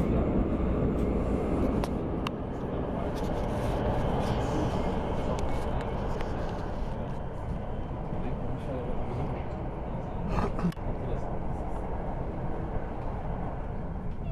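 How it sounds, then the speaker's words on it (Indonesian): An underground train runs in motion, heard from inside a carriage as a steady low rumble and rolling roar with faint rattles and a few brief clunks throughout. "Inilah suasana dalam kereta api, masih di bawah tanah."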